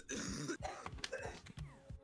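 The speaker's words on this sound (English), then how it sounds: "Who coughed like an iPad kid in the background?" A string of harsh, irregular coughing and throat-clearing bursts, moderately loud and close, repeating across two seconds with short gaps between them.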